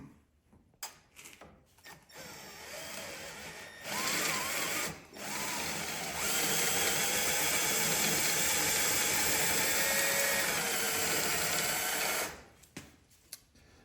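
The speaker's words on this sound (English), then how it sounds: "we're gonna drill that rivet out" A power drill whines steadily for several seconds, drilling out a rivet with a high grinding tone, after a few short bursts and before clicking off.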